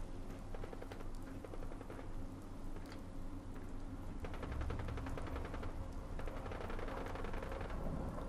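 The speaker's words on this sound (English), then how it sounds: "That gunfire sounded a little too close." Bursts of rapid gunfire echo through a post-apocalyptic farmland setting in the video game Fallout 4, with dense volleys of shots rattling continuously at a moderate, somewhat distant level, no voices present.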